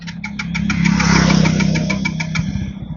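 KTM Duke 250 motorcycle engine starting while low on fuel, a brief cranking burst that catches into a rough, swelling run and then falters, close and alone.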